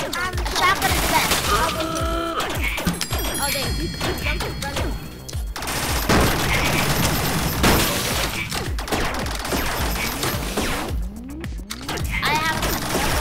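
Shotgun fire in a robot apocalypse survival video game, repeated loud blasts and clattering impacts amid dense chaotic combat noise, with speech mixed in.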